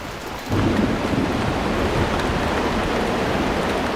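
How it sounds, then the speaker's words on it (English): Hail and heavy rain pelt a forest during a storm, a loud, dense, steady hiss and patter that starts suddenly and continues without pause. "Hail peppers the forest."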